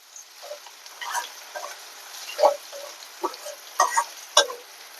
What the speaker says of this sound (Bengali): পেঁয়াজটা ভাজা করে লই, পরে ভিন্ডি দিব